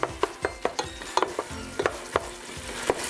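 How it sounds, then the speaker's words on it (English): Meat chopper scraping and clacking against a pot as browning ground beef for cowboy stew is broken up, sharp rhythmic knocks over a soft sizzle, no voices. "I'm just gonna get in here with my trusty meat chopper just to break this up a bit"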